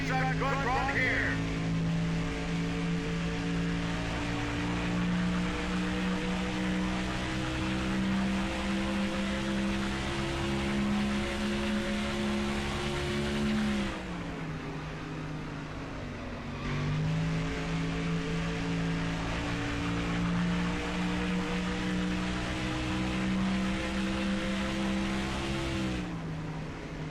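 A NASCAR race car engine in NASCAR Thunder 2004 drones at high, steady revs through a qualifying lap at Pocono, dipping briefly as it lifts for a turn before climbing again, loud and continuous beneath a commentator's voice.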